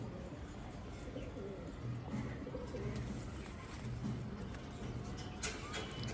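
Pigeons coo softly in low, rounded bursts among scattered chirps, set against a steady background hum.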